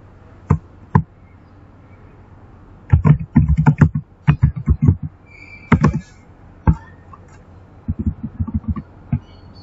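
Keys clatter on a computer keyboard while a letter is typed in a word processor, irregular bursts of close taps with pauses between runs, no talking.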